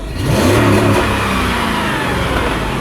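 A car at a dealer-only auto auction revs hard up to a rev limiter around 3,000 rpm, a loud close engine roar rising quickly then holding steady.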